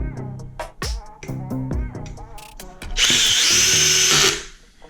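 A power drill drives ceiling fan mounting screws, one steady close whir near the end after a stretch of clicks and handling noises.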